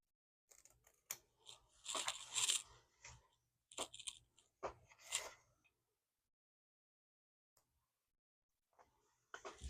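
Sharp Kimberbell scissors cutting fabric or paper, with close, crisp snips and crunchy cuts in clustered bursts and quiet gaps between them, the last few faint and sparse.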